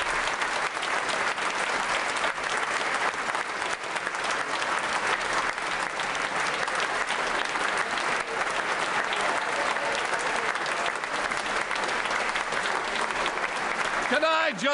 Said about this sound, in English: this House quite rightly cheers out the Prime Minister. I'm sorry we're still clapping.